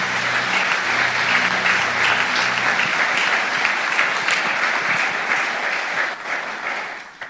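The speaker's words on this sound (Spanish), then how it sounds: "Dale palmas al Señor en estos momentos." A church congregation claps its hands together in steady, loud applause with a faint low hum beneath, holding strong before tapering off at the end.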